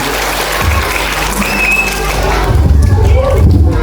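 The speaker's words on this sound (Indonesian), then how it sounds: "Tepuk tangan." An audience at an Islamic storytelling event for National Santri Day claps throughout. The applause is mixed with crowd noise and people talking, and a few thumps are heard.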